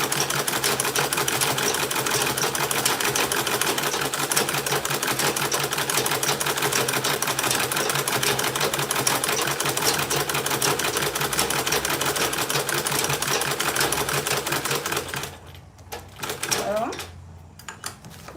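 A sewing machine stitches along fabric edges in a fast, continuous mechanical whir with a dense ticking rhythm for about fifteen seconds, then stops. A few handling clicks follow, and a voice talks over the machine.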